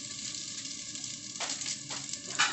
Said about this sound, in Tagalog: sunod din ako ang deep fry breast chicken